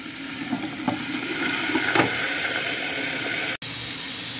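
Soft, steady sizzling of fish frying in hot fat in a pressure cooker, with a few faint clinks and scrapes, ending in a brief cutoff.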